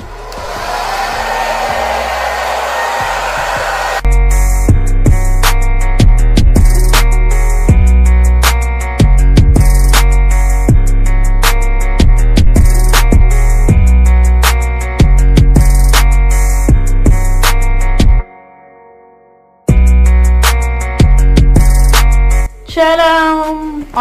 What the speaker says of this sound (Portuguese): agora eu vou secar com o secador